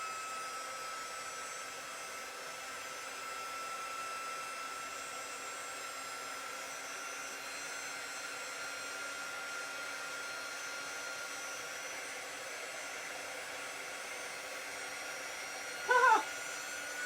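A hair dryer drying thick chalk paste ink on a Chalk Couture transfer blows a steady, even whir close by for the whole stretch, with a brief sharper burst near the end.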